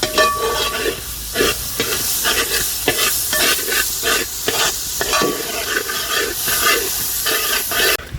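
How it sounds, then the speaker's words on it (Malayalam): Ginger garlic paste fries loudly in a pan as it is stirred and mixed, with a dense sizzle and repeated rhythmic scraping strokes throughout, close and uninterrupted by talk. "ഇഞ്ചി വെളുത്തുള്ളി പേസ്റ്റ് ഒരു അഞ്ച് സ്പൂൺ കേട്ടോ നന്നായിട്ട് മിക്സ് ചെയ്തെടുക്കണം കേട്ടോ"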